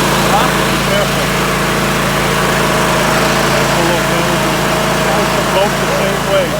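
Riding lawnmower engine running steadily close by, a continuous droning hum with no breaks.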